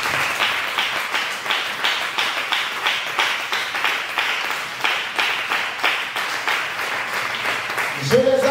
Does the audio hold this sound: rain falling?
no